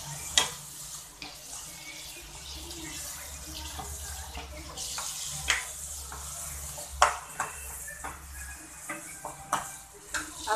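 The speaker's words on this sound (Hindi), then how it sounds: "देखिए अब अच्छे से हम इसे मिक्स कर देंगे।" Kadai paneer gravy with shallow-fried, browned paneer is stirred in a pan: a steady soft sizzle under scraping and sharp spoon knocks against the metal, spread unevenly throughout.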